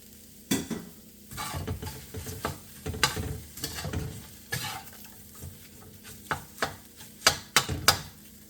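Egg white tossed into sizzling dried scallop fried rice in a wok, with scraping stirs and clatters of a utensil against the pan over a steady frying sizzle, close and fairly loud, ending in a few sharp knocks.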